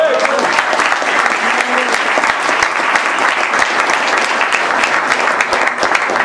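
An audience applauds steadily and densely at an emergency indoor protest rally against security legislation, sustained loud clapping filling the whole stretch with a murmur of voices under it.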